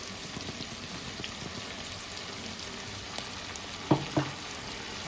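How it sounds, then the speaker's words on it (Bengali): Ginger, green chili and garlic paste fries in hot oil for a khichuri, a soft, steady sizzle with a couple of sharp clinks of a spoon against the pan near the end. "আমি একসাথে আদা কাঁচা লঙ্কা রসুন পেস্ট করে নিয়েছি পেস্টটা দিয়ে দিলাম"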